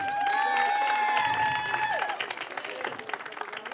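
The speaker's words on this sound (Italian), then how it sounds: "un forte applauso ai bambini" An outdoor audience at a children's clown show in Falerna applauds, steady dense clapping from a crowd, while a sustained musical tone and voices ring over the first half before the clapping carries on alone.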